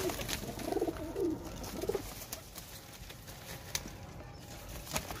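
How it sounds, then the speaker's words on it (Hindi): Breeder pigeons kept at home cooing, soft rounded bursts clustered in the first two seconds, then quieter rustling and occasional wing flutters with light patter, close and moderately loud, no voices. "ये जी मेरे ब्रीडर कबूतर हैं घर के"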